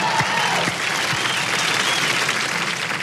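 Studio audience applause on a television game show, a steady dense wash of clapping that fills the whole stretch at an even level, with no talking over it.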